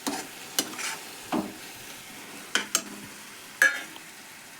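Roasted cashews stirred into hot carrot halwa in a pan, a handful of soft, separate scraping and clinking strokes with brief pauses between, close and fairly quiet with no talking.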